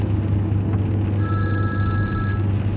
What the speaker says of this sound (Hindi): जरा देखो उमर मुझे फोन कर रहा है।